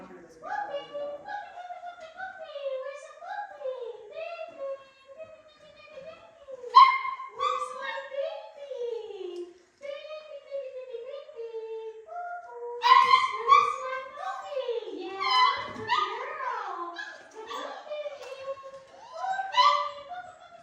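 Anxious puppy whimpering, yipping and letting out short barks during an evaluation, a close, high-pitched series of whines and cries that rises into louder bursts in the second half, with no talk over it.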